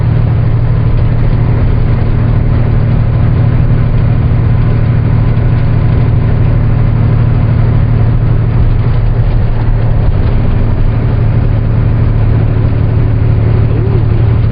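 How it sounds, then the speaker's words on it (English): A Caterpillar diesel engine in a loaded semi truck drones steadily while driving, heard from inside the cab as a loud, constant low rumble throughout. "That sounds like a good truck"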